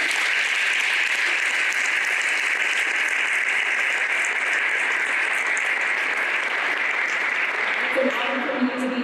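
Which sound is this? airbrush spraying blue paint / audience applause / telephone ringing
audience applause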